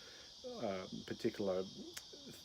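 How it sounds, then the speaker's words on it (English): Crickets chirp in a constant high-pitched drone through the whole stretch while someone speaks over them nearby. "the crickets have just stopped"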